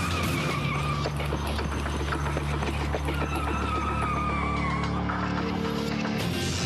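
A car swerves and speeds away from masked robbers who are trying to hold up its driver on a road. Its tires squeal loudly and steadily while the engine roars under dense traffic noise.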